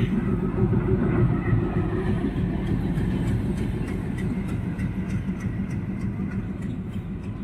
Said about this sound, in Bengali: দেখছো অনেকটা কম স্পিডে গেছে রেলটা